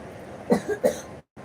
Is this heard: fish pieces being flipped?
no